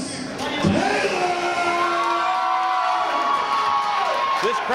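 A packed crowd at a PWX pro wrestling show erupts in loud, sustained cheering, shouting and whooping as wrestler Chris Taylor is announced, a dense roar holding steady throughout.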